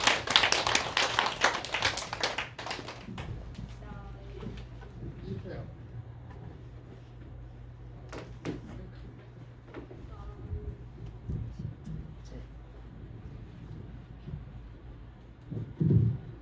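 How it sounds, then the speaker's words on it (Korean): Warm applause from a church congregation welcoming a singer for a worship hymn, a dense burst of clapping in the first few seconds that thins to scattered claps over a low hum, with a final short flurry at the end. "우리 나오실 때 뜨겁게 박수하도록 하시겠습니다."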